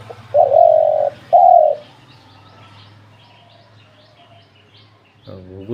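A dove gives two loud, close coos in quick succession near the start, then quiet background with faint birdsong and a brief low rumble at the end.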